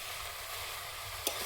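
Boiled spinach and potatoes fry in a wok with a constant soft sizzle and one brief clink near the end.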